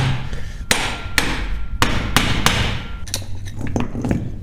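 A hammer striking a tractor front-drive unit from an Ursus or Zetor in a workshop: a series of sharp, loud metallic blows at irregular intervals, close by, with a few lighter taps toward the end.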